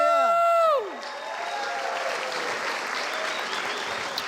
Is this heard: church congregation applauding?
yes